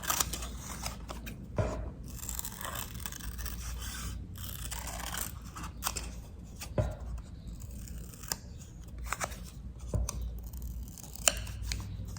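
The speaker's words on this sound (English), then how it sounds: "And then I'm just going to cut around the edge." Scissors snip around the outline of a paper leaf cut out for a printmaking stamp, close and crisp cuts in an irregular series, with rustling paper between snips.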